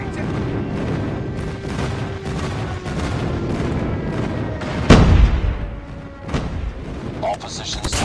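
Airstrike explosions in the Call of Duty Mobile multiplayer ranked match: a big booming blast near the middle and a smaller one after, over steady battle rumble and gunfire, with game voices heard.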